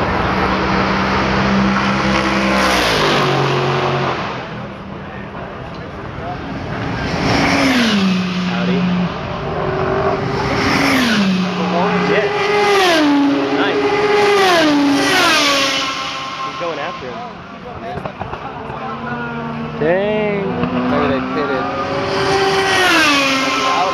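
Race cars at Road Atlanta during Petit Le Mans roar past one after another, engines revving and dropping in pitch as they brake and downshift, loud and close, with people talking over them.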